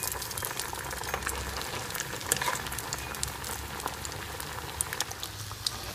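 Fish slices frying in oil, a steady dense sizzle with crackling pops scattered throughout, close and continuous with no talk.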